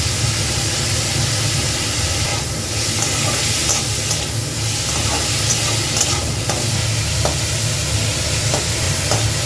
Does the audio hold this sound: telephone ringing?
no